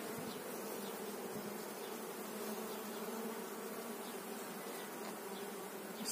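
Honeybees hum in a dense, steady buzz during artificial swarm creation in July, close and continuous without pause or voices.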